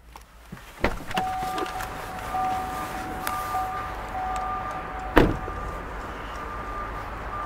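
The electric front window motor of a Vauxhall Astra runs with a steady whine, close up and fairly quiet, with a soft clunk near the start and a sharper thunk midway.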